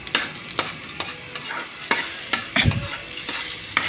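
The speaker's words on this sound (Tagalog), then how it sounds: "Igisa natin itong bawang." Garlic sautéing in vegetable oil in a pan for pork and chicken adobo, a continuous close sizzle broken by regular stirring scrapes and taps of a utensil, no voices.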